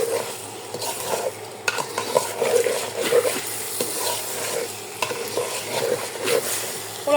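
Rice for polao being stir-fried in a pan, a steady sizzle with repeated scraping and stirring strokes throughout, fairly close and continuous with no talk.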